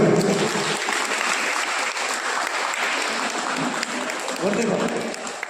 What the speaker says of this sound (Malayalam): എല്ലാവരും നല്ല കയ്യടി കൊടുക്കുക